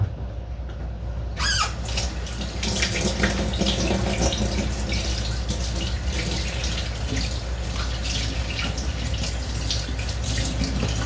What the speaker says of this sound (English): Now it's time to wash my hands.